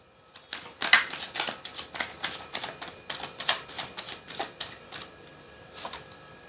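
Tarot cards being shuffled, a steady run of close, crisp riffling snaps at an even rhythm, with no voices over them.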